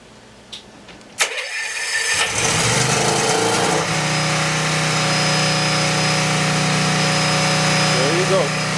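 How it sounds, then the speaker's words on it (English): A Kohler marine generator aboard a 2005 Sea Ray 340 Sundancer cranks and catches after a couple of clicks, then settles into a steady, loud running drone with a constant hum. "It's going in there to start up the Kohler generator"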